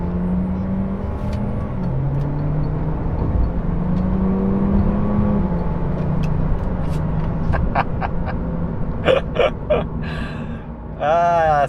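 Citroën C4 Cactus 1.6 naturally aspirated petrol car accelerating at full throttle from a standstill, engine rumbling and rising in pitch through the revs, heard from inside the cabin with some brief voices and noises late on.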